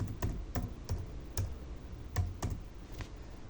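Password typed on a computer keyboard while setting up accounting software, a handful of separate key clicks at an uneven pace, close but soft.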